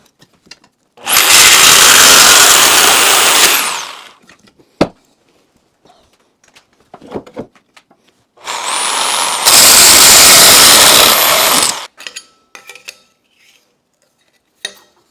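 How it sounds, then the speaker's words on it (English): A power saw cuts sheet metal for a small multi-configuration utility trailer in two loud, harsh bursts of several seconds each, with scattered clanks and handling knocks between and after the cuts. "So I'm going to use the saw, even though I could probably cut those with tin snips"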